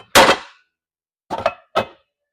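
A metal casserole pot clangs loudly three times in a kitchen, one sharp ringing strike followed after a pause by two quicker knocks, with no talk.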